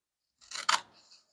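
A sheet of 2000 grit sandpaper being cut with scissors: a single short, crisp snipping rasp that lasts under a second, close and fairly quiet.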